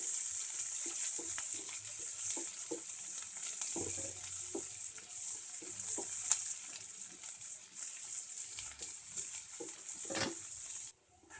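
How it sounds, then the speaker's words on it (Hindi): Onions sizzle steadily in a hot pan with green chillies while making veg aloo chop, a constant bright hiss with faint scattered clicks and stirring. "तब इसमें हम डालेंगे प्याज। प्याज को थोड़ा भून लेंगे।"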